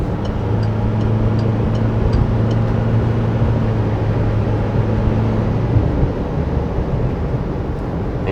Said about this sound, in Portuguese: Temos um barulho, um ruído aerodinâmico muito grande dessa parte